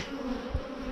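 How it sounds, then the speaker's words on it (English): Honey bees flying in and out of the entrance of a newly installed hive produce a low, steady buzzing drone, close and fairly quiet, without talk. "I'm just going to make sure that there's bees coming and going in and out of the entrance."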